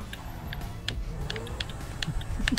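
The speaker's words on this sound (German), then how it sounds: "man hört meinen Controller irgendwie mehr als sonst" A game controller's buttons click rapidly and irregularly during a GTA V custom-map session, with light ticking taps scattered throughout over faint background game sound.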